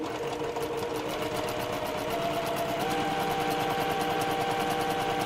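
A sewing machine stitching half square triangle quilt pieces runs steadily and close, a fast, even mechanical rattle of the needle that continues unbroken for several seconds, with no talking.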